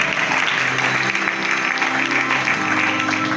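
Congregation clapping at a funeral service, a steady, dense wash of applause held at an even level throughout, with no pauses.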